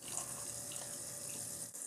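Water trickles and splashes steadily through a small funnel as it fills the cooling system of a Stirling engine bicycle project, a continuous close pouring sound with no speech.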